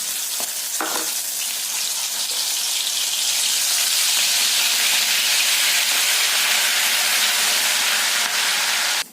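Green chilies and ginger-garlic paste sizzle loudly in hot oil in a kadai. A dense, steady hiss follows a couple of sharp crackles at the start and continues unbroken to the end. No voices are heard.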